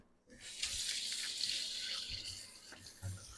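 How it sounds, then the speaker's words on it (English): A kitchen tap switches on and runs steadily as hands are washed beneath it, a close, continuous splashing stream with small shifts as the hands move, no talking. "Let me wash my hand here."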